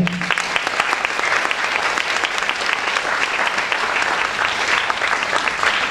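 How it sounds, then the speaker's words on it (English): An audience at an elocution contest applauds the judges with a dense, continuous burst of clapping from many hands, lasting throughout at an even, fairly loud level. "Let's give them a round of applause."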